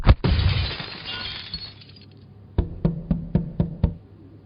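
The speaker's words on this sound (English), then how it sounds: "shattering the mirror." A mirror shatters under a punch in one loud crash of breaking glass that trails into tinkling shards, followed by a run of six sharp, evenly spaced knocks.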